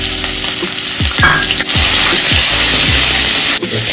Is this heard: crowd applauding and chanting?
no